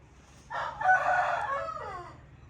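A village rooster crows once at night, a single drawn-out call that rises and then trails off, fairly close against a quiet background.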